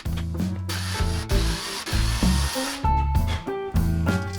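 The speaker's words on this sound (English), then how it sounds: "I clamp the panel into place and then drill out the holes for the bolts." A power drill whirs in several short bursts with brief pauses between, drilling bolt holes through a clamped panel, close and fairly loud, with no talking.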